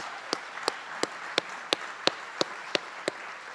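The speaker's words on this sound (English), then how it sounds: "Another big round of applause for all our tenure candidates" Sparse, evenly spaced claps at a school district board of education meeting honoring tenure candidates, about ten sharp slaps roughly a third of a second apart, moderately faint over a steady room hiss with no talk.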